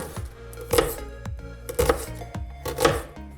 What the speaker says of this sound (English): Basically all you need to do is cut all the veggies into small pieces. So I started with onions